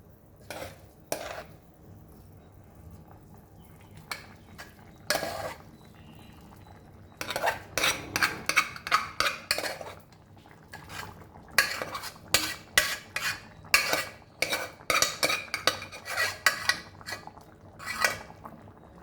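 Masoor dal and rice khichdi is stirred into a tadka in a metal pot: a spoon clanks and scrapes in quick bursts, sparse at first, then in a dense rhythmic run, with brief pauses between, close and clear.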